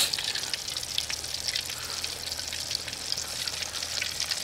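Fish fries in hot oil with a steady, close, crackling sizzle full of fine pops, holding an even level throughout, with no voices.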